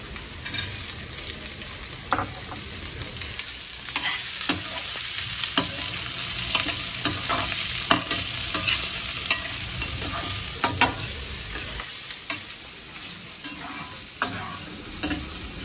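Onions and about ten green chillies fry in hot oil, giving a steady sizzling crackle punctuated by repeated scraping stirs of a spoon against the pan.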